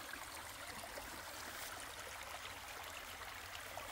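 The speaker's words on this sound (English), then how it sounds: "Lots of different streams." Several forest streams make a steady, hissing rush of flowing water that is constant and moderately close, with no voices or other sounds.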